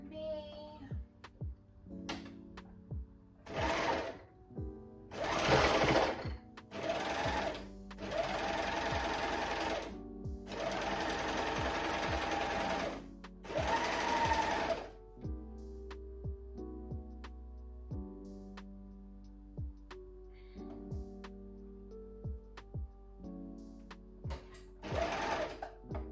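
An overlock serger stitches fabric scrunchies for a Mother's Day market in several loud, rapid whirring bursts of a few seconds each, separated by pauses filled with soft clicks and handling noises and low background music.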